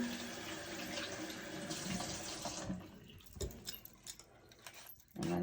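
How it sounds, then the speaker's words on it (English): Tap water runs steadily into a kitchen sink as sweet potatoes are rinsed, a continuous close hiss that gives way to lighter splashes, knocks and clatter of produce and dishes. "All right, another quick rinse."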